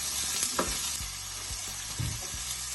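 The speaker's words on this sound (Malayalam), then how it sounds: "ഞാൻ 2 വലിയ സവാളയാണ് എടുത്തത്. ഇത് നന്നായിട്ട് വഴറ്റി കൊടുക്കണം" Two large onions stirred and sautéed in hot oil for chana masala, giving a steady close sizzle broken by several low thuds and scrapes of the spatula.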